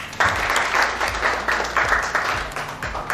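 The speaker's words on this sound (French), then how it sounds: "Applaudissez pour vous-même." Group applause at a birth-certificate registration team meeting, brisk continuous clapping from many hands in a room, loud and close, with a slight rhythmic pulse.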